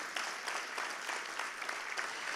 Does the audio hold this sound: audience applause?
yes